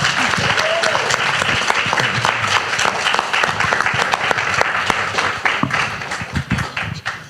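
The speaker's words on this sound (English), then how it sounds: "Can we please give our Del Aire Green Team partners a round of applause?" Loud, sustained applause from a panel audience honoring community green team partners, thick clapping throughout with a few louder claps and some voices mixed in toward the end.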